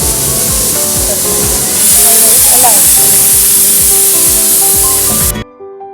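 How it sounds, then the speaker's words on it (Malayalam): Potato and egg balls fry in hot oil with a loud, dense, continuous hiss and spatter, a few tonal kitchen sounds over it, cutting off abruptly near the end. "ഇത് പൊട്ടറ്റോയും എഗ് കൂടെ മിക്സ് ചെയ്തിട്ട് ഫ്രൈ ചെയ്തെടുക്കാം"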